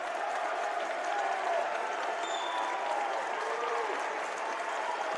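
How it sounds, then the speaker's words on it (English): Basketball crowd at a boys high school game at Garrett High School cheers and applauds loudly and steadily, a dense wash of clapping and voices with a few whistles rising over it. "the Dwenger crowd showing their approval as they get loud here at Garrett High School"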